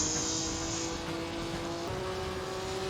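1955 Formula One race cars roar at steady high revs in the Assetto Corsa racing game at Belgium, a sustained engine drone with a pitch shift near the end and no talking.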